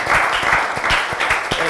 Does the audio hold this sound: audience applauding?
yes